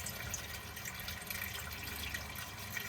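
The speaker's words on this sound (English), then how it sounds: "as you can hear, that's overflowing nicely into there now" Steady, soft trickle and splash of water overflowing into a tank, continuous and close with no voices.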